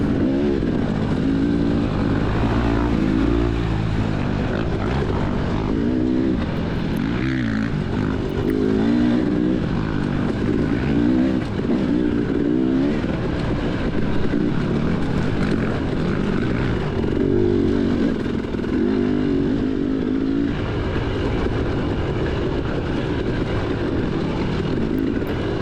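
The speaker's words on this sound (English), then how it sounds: "Sounds like a 4-stroke on my tail though." A four-stroke motocross motorcycle engine roars close behind a rider during a cross-country race. The engine noise is loud and continuous, its pitch rising and falling as the throttle changes, with wind and riding noise mixed in throughout.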